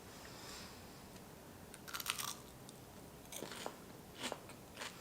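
A few soft, crisp crunches of someone biting into crispy air-fried avocado, spaced apart, close by but quiet over a faint hiss.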